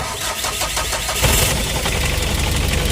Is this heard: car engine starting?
yes